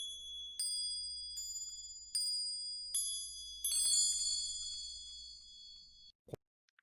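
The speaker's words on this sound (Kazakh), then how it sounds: "Қоңырауды кішкентай балғамен ұрып ойнайды." A copper or brass bell struck with a small hammer rings out in clear metallic dings, five strikes at spaced intervals, each leaving a long shimmering decay, followed by a short dull knock at the end.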